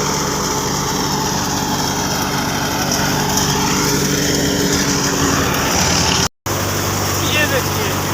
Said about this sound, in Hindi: ट्रैक्टर लेके जा रहा है अपना